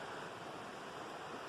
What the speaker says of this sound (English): And there's a creek running there.